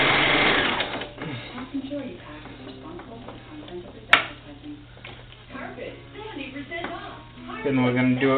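Sewing machine stitching doll bloomers, a rapid mechanical whirring and ticking of the needle in short runs, close and clear, with someone talking over it and a sharp click midway.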